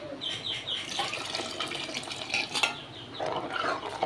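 Water splashes and trickles steadily into a metal pot of sambar, with faint clinks of cookware, close by and moderately loud.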